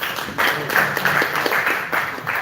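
Applause from a seated audience at a training session in Meerut, Uttar Pradesh: a brief, moderately loud burst of many hands clapping, steady and uninterrupted with no talking over it.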